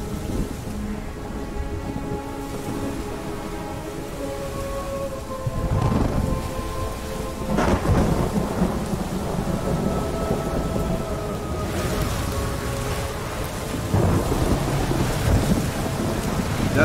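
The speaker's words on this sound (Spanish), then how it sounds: "Una tormenta." Thunder and rain in a storm scene from the video game Ori, with rumbling thunder bursts over steady rainfall and game music tones underneath, no talking.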